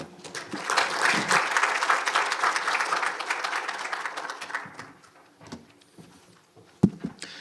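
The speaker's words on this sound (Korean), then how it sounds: "박수로 청해 듣겠습니다" A conference audience applauds to welcome a speaker, loud clapping building and holding for about five seconds, then thinning to a few scattered claps and small room noises.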